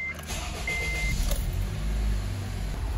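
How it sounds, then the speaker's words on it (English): A 2011 Acura RDX Turbo engine cranks and catches, then settles into a steady close idle. "Go ahead and start the car up."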